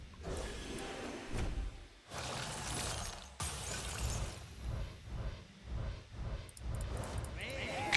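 Hearthstone card pack opening in the Murder at Castle Nathria expansion, a bright glass-shatter burst followed by whooshing and a string of rhythmic card-reveal chimes, mixed with other game effects.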